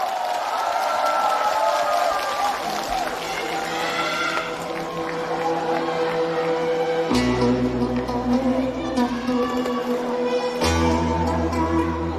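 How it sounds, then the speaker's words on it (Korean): Audience at an outdoor festival concert, the 43rd Geumsan World Ginseng Festival, applauds and cheers steadily as a band starts up, with crowd noise blending into loud live music throughout. "박수 많이 주세요!"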